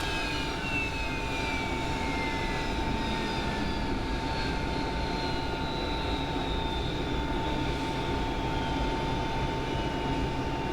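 Engines of a Belarusian freighter aircraft run at an airport, a continuous jet whine with a steady tonal hum and slowly sliding high pitches, heard from some distance at fairly low level.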